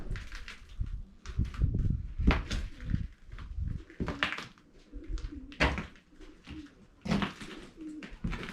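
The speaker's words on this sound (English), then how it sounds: "you'll be able to hear the birds" Pigeons or doves cooing outdoors near a manufactured home being demolished, repeated soft coos with other bird calls and a few light knocks, moderately close, no talk.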